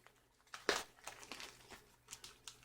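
Foil wrapper on a Terry's chocolate orange being peeled back, giving a series of close, crisp crinkling and tearing bursts with one louder rip near the start, no talking.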